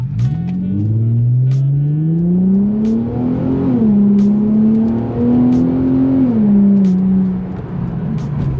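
A muffler-deleted Infiniti G35 rumbles loud and close as its revs rise and fall, with a string of sharp exhaust pops crackling over the deep drone.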